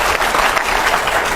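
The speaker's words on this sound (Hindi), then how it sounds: "दीपक जी, ताली बजाइए" Brief burst of loud, close audience applause, dense and even throughout with no voices standing out.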